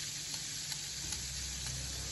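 Eggs sizzling in hot margarine in a pan, cooked for scrambling as part of seafood fried rice; a steady, close frying hiss with faint crackles throughout, no voices.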